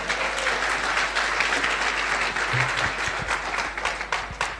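Sustained audience applause at a speech, dense clapping from a crowd filling the whole stretch at steady volume.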